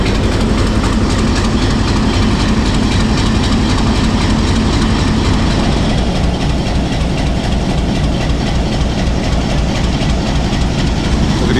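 Rawalpindi Passenger train 267UP running on rails from Rawalpindi to Havelian in rain, a loud, dense, continuous rumble with rhythmic clattering of wheels heard from on board.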